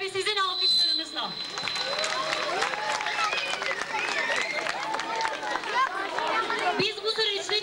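Festival audience applause fills the space as a dense, continuous wash of clapping from a large crowd, with cheers, whistles and voices woven through it.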